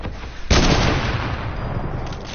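Close, loud AR rifle gunfire in a video game, a sharp onset followed by a steady, dense stream of rapid shots that holds for a couple of seconds without any voices.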